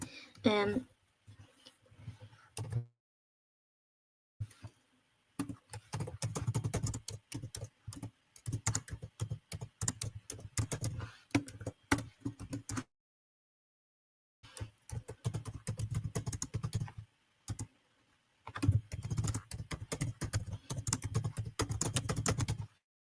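Bursts of rapid typing on a computer keyboard, dense key clicks in several runs separated by short silent pauses, close and fairly quiet.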